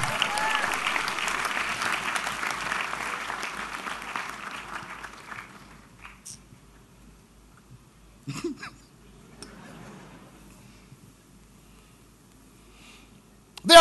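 A church congregation applauds during a sermon, with moderate clapping that fades over about five seconds into near silence and a few faint scattered sounds.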